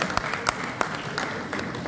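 Audience applause at a PDCI-RDA political party meeting: a steady, fairly close wash of clapping with a few sharper individual claps standing out, and no speech over it.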